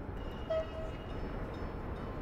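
A train moving in the video game Workers and Resources, a steady low rumble of rolling rail cars with a brief higher horn-like tone near the start, no voices.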